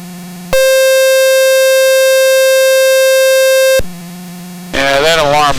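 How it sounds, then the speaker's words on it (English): An RV-7 aircraft's cockpit alarm sounds during a test flight as a loud, steady electronic tone lasting about three seconds over the low drone of the engine, with a warbling sweep toward the end. "That alarm is annoying."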